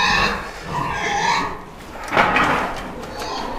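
Piglets grunt and squeal, several short snorting calls close by, with a clatter partway through.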